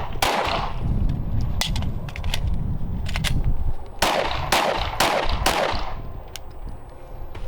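Pistol shots ring out during a shooting drill, with sharp close reports in two quick clusters separated by a pause for reloading, loud against a quiet outdoor background.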